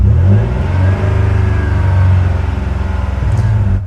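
A car engine revs up loud and close during a scan-tool diagnostic check, a steady mid-pitched roar holding its level for several seconds with one brief dip near the start.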